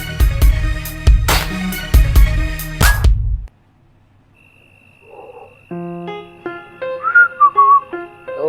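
A person whistles with the mouth, a light melodic tune of short rising and falling notes that comes in after loud rhythmic music with heavy beats cuts off, followed by a brief quiet stretch.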